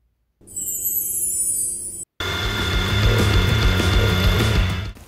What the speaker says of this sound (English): I'm going to chuck it in the mill and start machining.